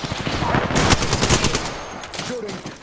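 Rapid automatic gunfire from an Apex Legends match, a dense burst of shots running continuously and fairly loud, with a voice speaking briefly over it.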